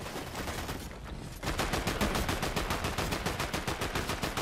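Rapid automatic gunfire in Fortnite rattles in steady bursts, a brief lull then a louder sustained stream of shots.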